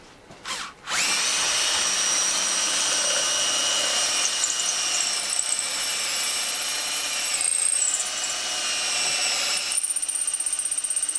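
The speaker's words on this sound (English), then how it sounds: "when you're drilling into hard woods" A power drill bores into hardwood while a custom bass guitar body is wired. After a short start the motor whines loud and steady for about ten seconds, the pitch shifting slightly as the bit cuts.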